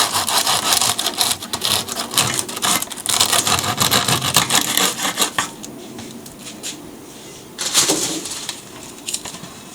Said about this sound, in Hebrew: עם סכין מסור חדה תחתכו